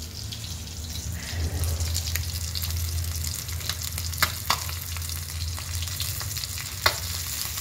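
Fish frying in a pan, a continuous oily sizzle with a low hum underneath, broken by a few sharp crackles and spits as it cooks.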